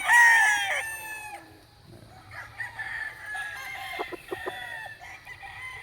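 Gamefowl roosters, double-banded and December-born, crow loudly and cluck nearby, with one long crow at the start followed by scattered clucks and further calls.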